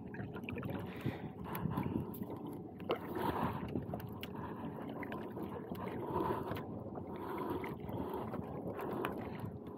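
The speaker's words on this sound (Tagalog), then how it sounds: "Sasagwan tayo." A small boat being paddled at sea in choppy water, with faint, irregular splashing and wind buffeting heard at a distance, quiet overall.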